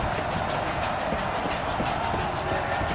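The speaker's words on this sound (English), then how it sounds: "And the train is coming out." Stadium train in Madden 21 at a Memphis Steamers game, a steady rail rumble with faint rhythmic clatter blended into crowd-like noise, continuous and fairly loud, no clear talking.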